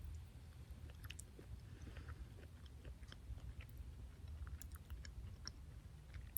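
Close, quiet chewing of oatmeal with crunchy almonds inside a car, soft repeated crunches and clicks of biting over several seconds with no talking.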